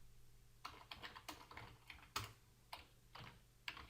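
Code being typed on a computer keyboard, irregular clusters of quiet, close key clicks with short pauses between bursts.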